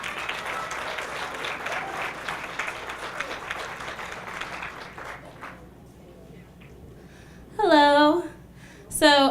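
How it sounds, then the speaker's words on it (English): Applause from wedding guests greets a woman rising to give a toast for the newlyweds at Hammock House in Wekiva, Florida; a steady round of clapping fills the first half, then fades as voices speak. "About a round of applause for her."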